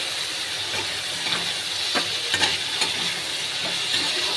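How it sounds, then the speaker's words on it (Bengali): Meat stir-fried in a hot pan, a loud continuous hiss of sizzling oil with several spatula scrapes and taps, close up and with no voices. "আমি মাংসগুলো দিয়ে দেবো, একটু কষে নেব।"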